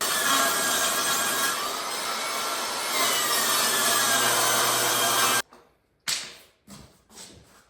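A hand saw cuts through wooden window trim in steady, rasping back-and-forth strokes, loud and close for about five seconds, followed by a few separate knocks and short scrapes.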